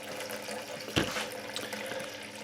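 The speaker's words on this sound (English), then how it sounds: "I'm just going to pour this in over top of this little lid that I have all the holes in." Homebrew lager pours over a small lid drilled with holes into a pot, a faint, continuous splashing trickle with one slightly louder splash partway through.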